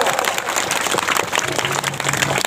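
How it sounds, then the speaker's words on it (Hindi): Clapping from a gathering at a Sarna prayer meeting, a dense burst of many hands applauding loudly and close, with a faint voice briefly underneath. "ताली बजाओ।"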